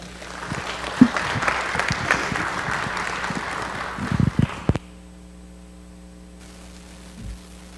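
A City Council audience claps for the American Red Cross, moderately loud and sustained for several seconds with a few sharper claps, then stops, leaving a steady electrical hum.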